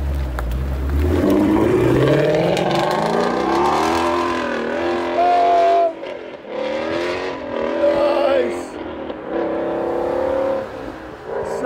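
A 2020 Ford Mustang GT500 with its supercharged 5.2-liter V8, long tube headers and high flow cats revs repeatedly, loud and close, each blip climbing then dropping with a short lull midway.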